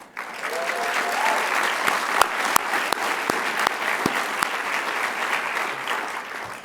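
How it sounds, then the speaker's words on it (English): Audience at a high school senior awards night gives a sustained round of applause, dense clapping with a few sharp individual claps standing out, and no talk. "Don't they deserve a round of applause?"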